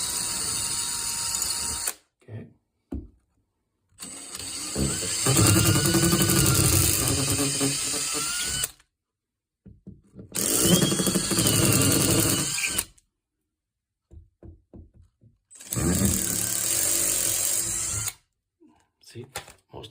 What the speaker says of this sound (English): Let's drill our first holes.